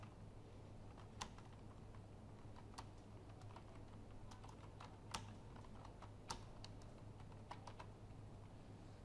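Quiet typing on a computer keyboard in a hushed room, with sparse, irregular keystrokes and a few louder taps standing out from a low background hum.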